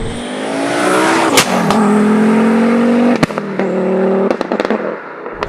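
A loud 530 bhp big-turbo Ford Focus ST with four-wheel-drive swap roars and revs hard, its pitch climbing and dropping between gear changes, with sharp pops and crackles from the exhaust.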